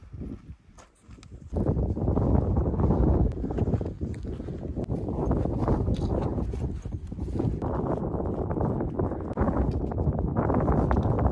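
Strong wind buffets the microphone on a mountain hike toward Pic du Taillon above the Ordesa valley, a loud, continuous roaring rumble with gusty surges and faint crunching steps underneath.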